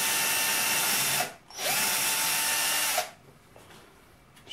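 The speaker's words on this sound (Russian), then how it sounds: "Прежде чем крутить саморез, надо засверлиться тоненьким сверлышком." A power drill fitted with a thin bit bores a pilot hole for a screw in an old shovel blade being made into a hoe. Two close, high whirring bursts come with a brief pause between them, then the drill stops and quieter handling noise follows.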